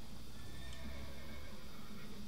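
Horse neighing in the Western video game Red Dead Redemption, a single whinny heard faintly over a steady low rumble of game ambience, with no talk.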